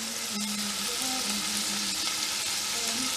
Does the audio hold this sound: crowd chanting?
no